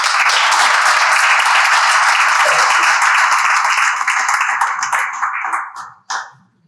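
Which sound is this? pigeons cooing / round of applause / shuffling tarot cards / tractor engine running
round of applause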